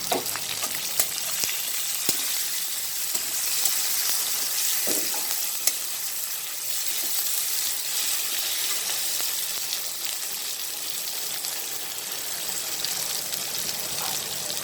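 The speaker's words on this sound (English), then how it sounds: "let the onions get cooked for some time" Chopped onions frying in a pan, a dense, hissing sizzle that runs steadily throughout, close up, with occasional light clicks of stirring.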